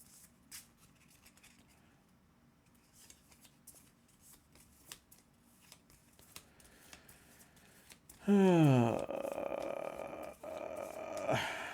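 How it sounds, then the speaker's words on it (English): Playing cards for the Marvel Champions card game are shuffled close up in a quick riffle that ends in a bridge, following a stretch of quiet handling and soft rustling. "I gotta shuffle this up now."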